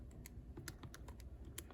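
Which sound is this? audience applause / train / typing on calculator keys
typing on calculator keys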